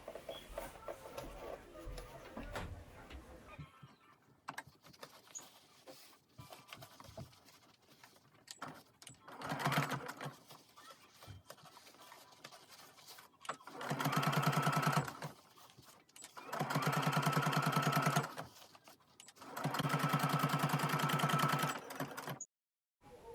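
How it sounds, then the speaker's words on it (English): A sewing machine top stitches a fabric face mask with a filter pocket, running near the seam line in several separate bursts of steady whirring with quiet pauses and handling noise between them. "And now top stitch near the seam line on the side where the seam allowance is."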